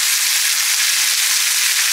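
Lamb chops frying in a pan that is too small for them, giving a steady, loud, dense sizzle that continues without a break, with no talking.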